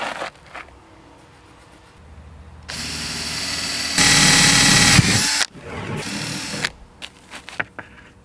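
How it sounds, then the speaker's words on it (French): A power drill pre-drilling holes into a WPC terrace substructure, loud and close, whirring up in stages over several seconds before stopping, followed by handling knocks and clatter. "Marquage et préperçage."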